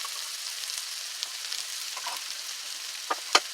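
Bell pepper goes into a pan of cooked-down carrots and celery and fries with a steady, loud close sizzle, broken by a few faint clinks and scrapes and a sharp tap near the end.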